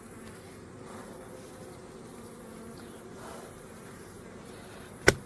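Honey bees swarming around a hive give off a faint, steady buzzing hum throughout, with a single sharp click near the end.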